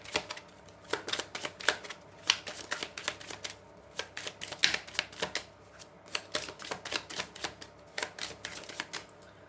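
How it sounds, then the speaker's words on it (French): A deck of oracle cards is shuffled by hand for a reading: rapid, close, soft riffling and slapping bursts in an uneven rhythm, repeated throughout with no talking. "Voilà, on va mélanger."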